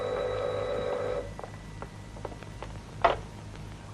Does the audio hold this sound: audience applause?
no